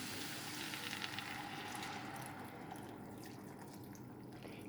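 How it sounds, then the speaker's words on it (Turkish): Water pouring into a pot of okra and chickpea stew, a faint, close, continuous splashing hiss that eases slightly in its second half, with no talking. "Şimdi suyunu koyacağım."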